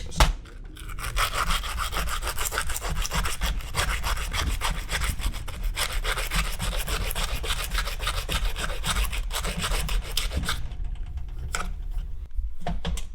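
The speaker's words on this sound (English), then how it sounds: "We're now using the sanding pad for" Continuous rhythmic abrasive rubbing of a sanding pad against wood, steady and close for most of the clip, stopping briefly near the end.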